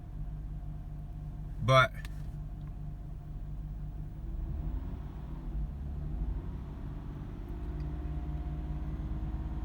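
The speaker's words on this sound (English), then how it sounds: "But down at idle, it's definitely got an occasional misfire." A 2007 Mazda 6 with a 3-liter engine idles with a cylinder 2 misfire, a steady low rumble heard close, with a brief loud knock near the start and someone talking over it.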